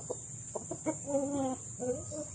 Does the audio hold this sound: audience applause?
no